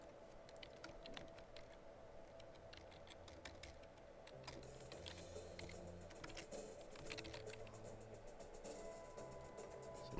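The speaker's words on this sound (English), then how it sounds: "So I'm just going to finish typing the names in." Names are typed into a Microsoft Excel 2007 spreadsheet on a computer keyboard, with quiet, steady key clicks that keep going irregularly for about ten seconds and no talking.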